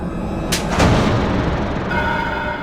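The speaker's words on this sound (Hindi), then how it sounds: "ये पटाखे बहुत अच्छे हैं" Loud firecrackers going off in a room, a sharp blast followed by another burst and a ringing, noisy tail, with no voices.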